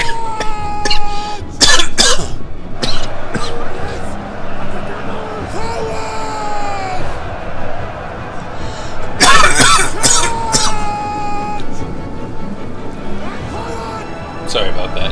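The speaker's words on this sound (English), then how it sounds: "I made a cough in the mic." A person coughs right into a microphone in a short burst of harsh, loud coughs, with a second cough fit later, amid ongoing talk and game sounds.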